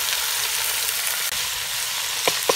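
Steady, loud sizzling of moose meat and onions frying in a pot for Brunswick stew, with a couple of faint clinks near the end.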